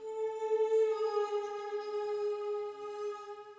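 An Ethnoworld 6 melody phrase processed with flanger, Supermassive reverb and EQ that cuts the low end, a single dark, held tone with a gently swirling, washed-out tail, heard alone and fairly quiet.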